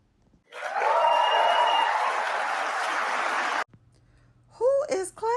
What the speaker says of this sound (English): Who is clapping at her talking like she has been removed from this situation all along?